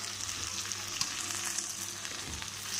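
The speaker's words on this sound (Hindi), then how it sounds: "प्याज और भिंडी सब हमने तेल में डाल दी। इसको हमने फ्राई करना है।" Okra and onions frying in hot oil, a steady close sizzle with faint crackles running throughout, no voices.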